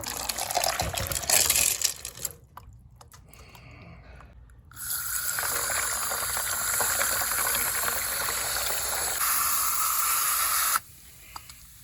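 Running water rinses Smokey Quartz stones clean, a steady close hiss and splash that drops away briefly, then resumes strongly and stops abruptly near the end.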